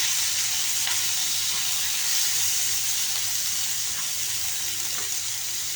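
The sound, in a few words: onions sautéing in a pan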